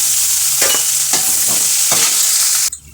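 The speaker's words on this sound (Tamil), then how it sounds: "இதையும் தட்டி வறுத்தெடுக்கணும்." Spices crushed and fried in oil in a pan give a loud, steady sizzle, with a few stirring scrapes breaking through before the frying noise suddenly drops near the end; no one speaks.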